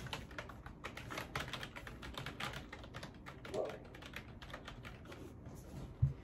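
Quiet, close-up typing clatters on a new gaming keyboard, with irregular bursts of key presses and one sharper tap near the end.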